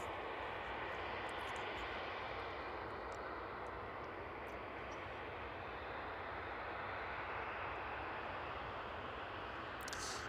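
A cargo aircraft arriving at East Midlands Airport in the evening gives a steady, broad roar of engine noise, distant but filling the whole stretch, unbroken and without voices.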